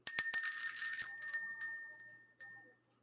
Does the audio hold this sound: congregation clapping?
no